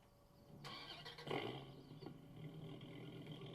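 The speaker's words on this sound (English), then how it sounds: "Well, it sounds like a car." A synthetic car engine in Farming Simulator 19 revs up and roars, rising in pitch, then settles into a steady hum; quiet overall.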